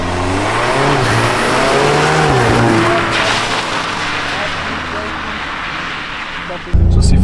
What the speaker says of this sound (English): getting a feel for the car on a wet surface